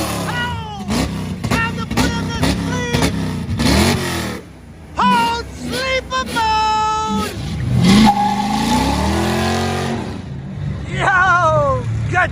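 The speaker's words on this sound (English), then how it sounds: "valved exhausts from Hot Rod Scott's, and that is still the exhaust that I'm running on this car today" Ford Mustang GT with aftermarket valved exhaust revving in loud mode, several sharp throttle blips rising and falling in pitch, close and loud, with a longer sustained rev near the end.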